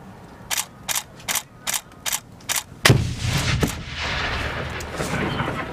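A hand grenade explodes on a military live-fire range: a single loud, sharp blast follows a run of evenly spaced clicks, then a rumbling, debris-filled tail fades for several seconds with no voices.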